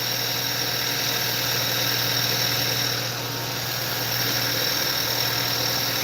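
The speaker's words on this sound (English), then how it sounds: "till the idler go down and then we can know the engine is running smooth" A car engine idles steadily at close range with a continuous low hum and a faint mechanical rattle, holding an even level throughout.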